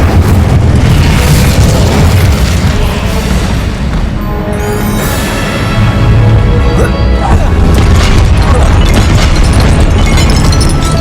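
Confringo and Incendio spell explosions in Hogwarts Legacy combat, a long, loud barrage of booms, crashes and fiery bursts rolling continuously, with brief shouted spell voices mixed in.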